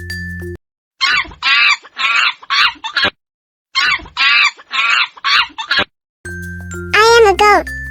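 A series of clucking bursts in two rhythmic groups, separated by silence, ending in a loud crow; sounds like recorded or imitated chicken calls over light music.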